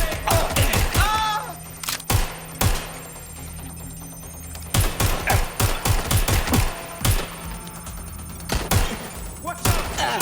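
Gunfire in Watch Dogs Legion comes in rapid clusters of sharp, loud shots, with quieter gaps between bursts, alongside some shouted voices.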